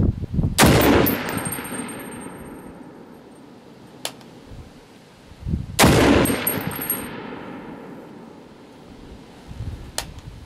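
Two loud, sharp rifle shots from an Ensio Firearms KAR-21 chambered in .308, about five seconds apart, each followed by a long echoing decay and a faint metallic clink, with no speech.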